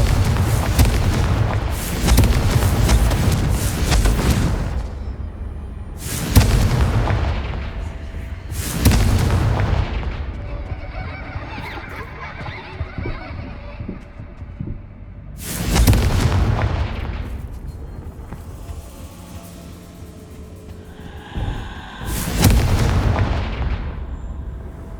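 Fiery Confringo spell blasts from Hogwarts Legacy on PS5, a series of heavy booming explosions. Five or six loud bursts land irregularly, each rolling off into a low rumble, with quieter game ambience filling the gaps between them.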